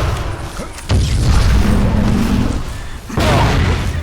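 Enemy artillery shells explode in the game Vivisector: Beast Within, with deep booming blasts and sustained rumbling as shots land close by, plus a second impact near the end. Some faint background speech.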